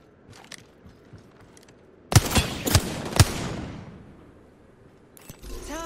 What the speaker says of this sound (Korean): 적에게 사격 개시